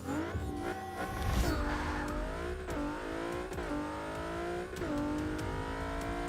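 A Toyota Celica in the racing game Forza 6 accelerates hard, its engine note climbing repeatedly through short gears with quick shifts and a brief tire squeal, loud and continuous.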